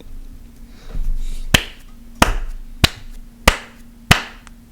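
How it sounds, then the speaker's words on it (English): One person claps alone in a room, five sharp, evenly spaced claps after a softer start, close and fairly loud with no talk. "Who's clapping?"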